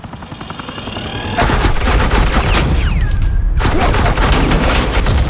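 Sustained automatic gunfire from Agent Quinn in Batman: The Enemy Within, a loud, dense stream of rapid shots that starts after a quieter stretch, with a brief pause before the firing resumes.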